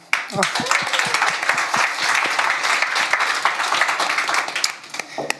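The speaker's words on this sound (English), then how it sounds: "I want this round of applause for you." An audience claps warmly at a forum on the war in Ukraine, a brisk crowded patter with a voice briefly heard at the start, the clapping thinning out near the end.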